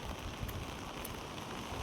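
Steady rain falls outdoors along a street where a dog wanders, a continuous broadband patter with no voices, holding an even level throughout.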